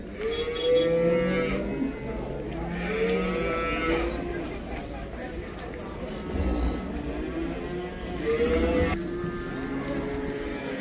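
Cattle at the Karabulak livestock market moo repeatedly, several loud, drawn-out calls close by, over a steady crowd and market rumble with faint voices in the background.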